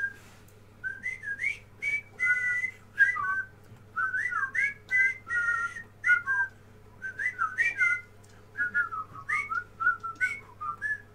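One person whistles a cheerful melody solo, in bright tuneful phrases separated by short breaths, close and clear over a faint low hum.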